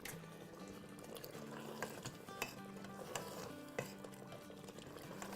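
Mutton for namkeen gosht is stirred and fried in a pot, giving quiet scraping and bubbling with a few sharp metallic clinks from the spoon against the pot.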